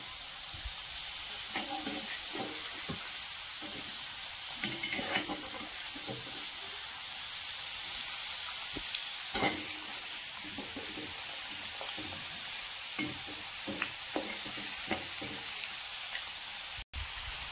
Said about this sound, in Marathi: आता झाऱ्यानं त्याला पलटी मारून देऊ।